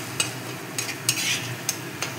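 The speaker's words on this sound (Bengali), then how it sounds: "যতক্ষণ মশলাটা থেকে তেল না ছাড়ছে ততক্ষণ আমি এভাবেই নাড়তে থাকবো।" Ground spices of cumin and dried red chilli being stirred in frying oil, a low sizzle punctuated by about five crisp spatula scrapes and clinks against the pan.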